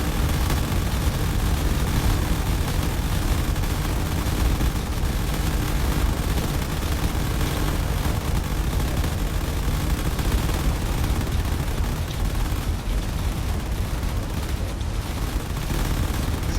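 A continuous, dense roar of railgun fire in a space drone battle game, loud and unbroken for the whole stretch, a thick wall of overlapping blasts with no clear gaps and no talking.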